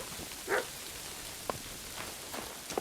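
A dog barks once in the medieval world of Kingdom Come Deliverance 2, a single fairly faint bark followed by a couple of softer short yelps over quiet ambient noise.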